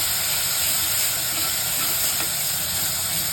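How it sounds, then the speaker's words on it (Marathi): Green paste tipped into hot oil with cumin and curry leaves, giving a loud, steady, close-up hiss of sizzling that runs without a break and cuts off at the end, no voices. "जिरे टाकायचे थोडासा कढीपत्ता टाकायचा आणि हे हिरवं वाटण केलेलं ते टाकायचं मिक्स करून घ्यायचं"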